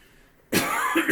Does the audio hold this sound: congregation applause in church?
no